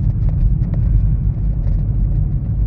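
Deep, rumbling exhaust from a Camaro SS fitted with Cherry Bomb Extreme chambered mufflers, a loud, close, steady low throb with a burbling pulse and no voices.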